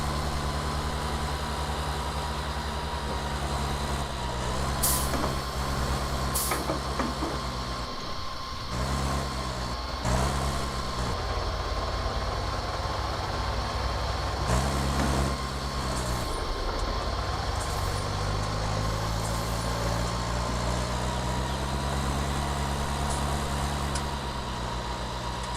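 A small Deutz tractor engine in Farming Simulator 19 straining at full throttle while mowing on alpine slopes, a constant heavy drone that dips and recovers in load several times, steady and close.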